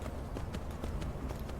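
Horse hooves clip-clop steadily along a road in the video game Skyrim, a soft, even rhythm of hoofbeats under a constant background hum with no talking.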